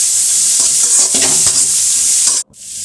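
Cabbage sautéed with garlic and tamarind in a pan, a loud close sizzle with spoon scrapes and stirring, cut off abruptly near the end, with no talking.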